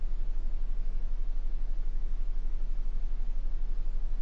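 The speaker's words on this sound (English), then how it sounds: "the episode cuts to black, and the sound of white noise can be heard" Steady, unbroken white noise hiss plays alone after a cut to black in an animated episode, constant in level with a faint low hum underneath.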